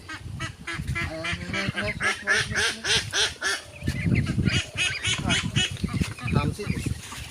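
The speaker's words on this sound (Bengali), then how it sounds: "এই যে সব চীনা হাঁস" A flock of Chinese Muscovy ducks calls close by at feeding time, a dense run of raspy honks and quacks, with a person talking over part of it.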